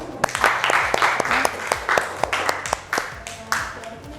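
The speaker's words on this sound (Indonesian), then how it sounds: "kita tepuk tangan dulu untuk diri kita semua" A classroom of students claps together during a biology lesson, with sharp individual claps standing out over a softer wash of hands. A voice talks over the applause.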